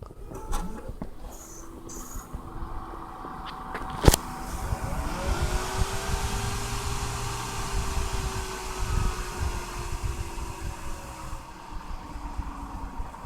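An electric fan that spins unevenly, switched on after a sharp click, rising into a steady whirring hum with a faintly wavering tone over broad airy noise, close by and with no talking.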